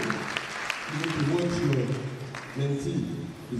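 Audience applause at an inaugural lecture at Bells University of Technology, a steady wash of clapping running throughout beneath a voice speaking over it.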